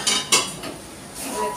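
Chicken chow mein stirred slowly in a pan, with a couple of sharp metallic utensil scrapes and clinks near the start, then a softer sizzle and faint scraping, heard up close with no talking.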